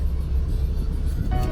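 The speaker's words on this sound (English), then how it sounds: "Now I am putting fifth gear." A car cruising in fifth gear with no accelerator pressed, climbing uphill, gives a steady low engine and road rumble throughout, close and continuous.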